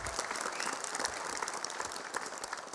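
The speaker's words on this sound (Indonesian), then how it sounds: "Tepuk tangan dulu buat Bapak Sutioso" A live audience at a roast-style stage show gives continuous, dense applause for former Jakarta governor Sutiyoso, a steady wash of many hands clapping with no gaps.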